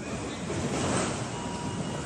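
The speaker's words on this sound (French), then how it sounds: "Des rafales à plus de 220 km/h qui emportent tout." A loud, constant roar of violent cyclone wind, gusts above 220 km/h, with no pause, buffeting and hissing across the whole stretch like a storm battering everything outdoors.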